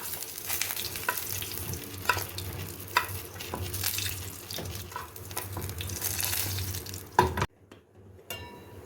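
Onions fry with meat in ghee in a pan, a moderate close sizzle with stirring scrapes and utensil knocks that stops abruptly near the end, followed by near silence.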